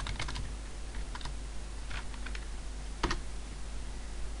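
Keys clack on a computer keyboard while someone enters details for a database admin page on an Ubuntu server, a run of close, quiet, irregular taps with a few firmer strokes, and no one speaking.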